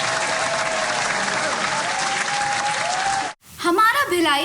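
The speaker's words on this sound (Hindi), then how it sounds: "इन जिम्मेदार महिलाओं के लिए जोरदार तालियां तो बनती ही हैं।" Loud, dense applause from an audience honouring women in Bhilai, steady for about three seconds before cutting off abruptly, followed by a voice speaking alone.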